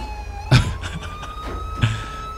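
A police car siren wails in the video game GTA 5 with the LSPDFR police mod, during a CHP highway patrol. The steady, rising electronic tone is broken by two sharp thumps of handling or impact.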